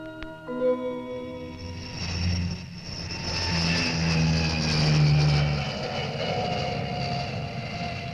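Mitsubishi MU-2 search-and-rescue turboprop flying a display pass over Komaki, a steady loud propeller drone and engine roar that swells toward the middle and holds, with no voices.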